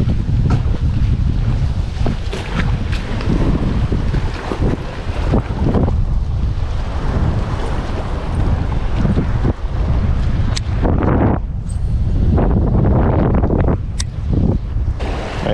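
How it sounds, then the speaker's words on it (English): Strong wind buffeting the microphone at a lake dock while fishing, a loud, continuous low rumbling roar with gusty surges and occasional thumps, and no voices. "It's real windy over here."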